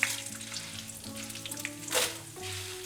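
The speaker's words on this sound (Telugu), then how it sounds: "85 గ్రాముల మినప్పప్పు దోరగా వేయించుకోండి." Urad dal frying over low flame in a pan, a steady close sizzle with occasional crackles and faint stirring scrapes, alone without talk.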